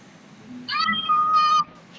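A cat meowing in the video game Minecraft: one clear, drawn-out meow, loud and close, with a soft lower sound before it and no speech.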